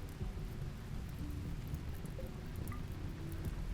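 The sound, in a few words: rain and thunder in a video game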